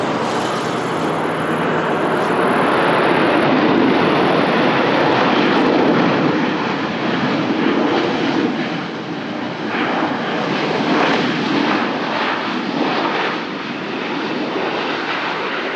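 An airliner landing at Lisbon Airport, its engines roaring loud, broad and sustained throughout as it approaches, with faint tonal hiss near the top and no talking.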